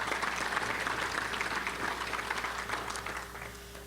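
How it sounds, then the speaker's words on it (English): Steady audience applause fills a Little Rock Touchdown Club luncheon room, a dense even wash of clapping that carries on without a break and holds at one level from start to finish. "a round of applause"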